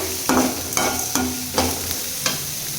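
Chopped onion hitting a hot pan for dosa masala, stirred in with several scraping strokes, each bringing a burst of sizzle over a steady frying hiss, close and fairly clear.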